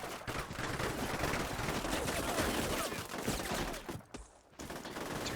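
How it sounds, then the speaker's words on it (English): Syrian AK rifles rattle off dense, rapid volleys in a Combat Mission Shock Force 2 firefight, a loud near-continuous fusillade with a brief lull near the end before firing resumes. "Turns out that Syrian AKs can fire off a lot of rounds in a very short amount of time"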